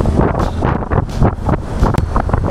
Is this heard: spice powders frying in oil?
no